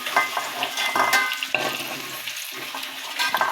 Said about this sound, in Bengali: এই যে আলুগুলো আমার ভাজা হয়ে গেছে,